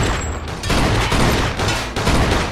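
Gunfire in the Mafia 2 video game, dense and loud, a continuous close barrage with heavy booming blasts that swell and fall in several waves over a couple of seconds.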